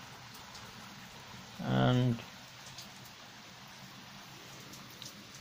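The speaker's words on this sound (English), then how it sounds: "Oh dear, rain is coming in." Light rain beginning to fall outdoors beside a Landmaster rotavator being repainted, heard as a soft, steady hiss throughout, with one short spoken word breaking in near the middle.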